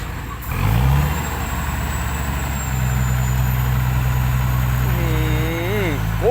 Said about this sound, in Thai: สิบล้อตัดครึ่งดีนี่เองครับคันนี้